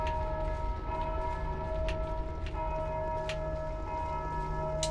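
Church bells tolling in the Dark Souls II video game, a steady sustained ringing with repeated strikes layered over a constant drone, fairly loud and without voices.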